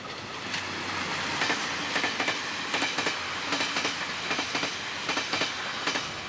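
A train passes along a railway track, a loud, continuous rush with a regular clickety-clack of wheels over rail joints repeating steadily throughout, no voices.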